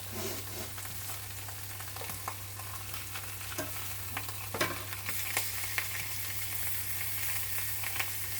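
Onions and pepper seeds frying in bacon grease, a steady close sizzle with occasional spoon scrapes and light pops as they are stirred.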